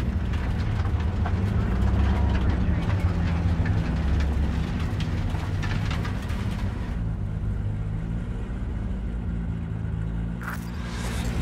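A heavy train in Cyberpunk 2077 rumbles steadily at close range, a continuous low grinding roll that eases off in the second half, with voices talking over it.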